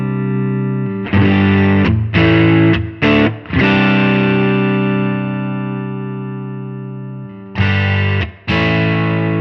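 Loud distorted electric guitar chords through a Tonex amp model with the mid EQ boosted, giving a pronounced midrange honk, played in short bursts and long sustained strums, no voices.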